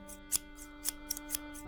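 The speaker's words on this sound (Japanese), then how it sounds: "ハサミの鳴るたんびに 黒い毛が飛んでくるので" Scissors snipping hair, a quick series of light metallic snips, about six or seven irregularly spaced, faint and close over a soft sustained musical drone.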